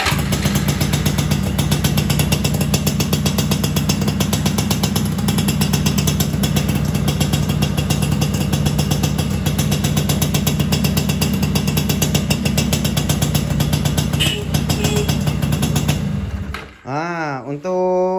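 A motorcycle with a double starter runs steadily in a rural village setting, its engine loud and close with a fast rhythmic putter that holds for about sixteen seconds before abruptly dying down and revving briefly.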